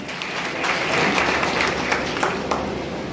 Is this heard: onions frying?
no